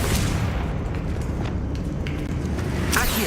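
A Confringo explosive spell blast in Hogwarts Legacy, heard as a loud, dense booming burst that rumbles throughout, with a sharper crack near the end.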